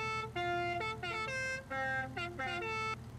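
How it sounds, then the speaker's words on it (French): Car horn of a 1980 Renault 5 Turbo in the racing game Forza Horizon 5, sounding in a quick run of short and longer honks with brief gaps, loud and close, alone without talk. "Vous enfoncez le stick droit de la manette et ça klaxonne."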